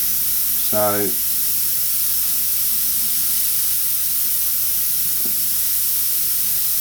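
Continuous bright hiss of an airbrush spraying paint for a tiger artwork, steady and close throughout, with a brief spoken word early on.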